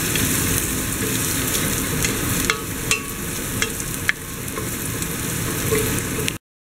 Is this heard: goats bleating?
no